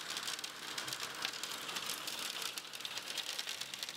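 A hailstorm in Curitiba produces a dense, steady hiss and patter of hailstones striking surfaces, loud and constant throughout, with no talking.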